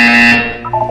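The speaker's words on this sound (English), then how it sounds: "You will hear a buzzer." A buzzer in the Portal 2 video game sounds as one loud, harsh, sustained tone for about a third of a second, then fades into softer wavering electronic tones.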